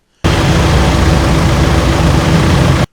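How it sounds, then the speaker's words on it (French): Loud, dense rumble of many idling and running vehicle engines stuck in a long traffic jam on a road in Douala, a steady unbroken roar close by with no talk. "le bruit assourdissant des moteurs"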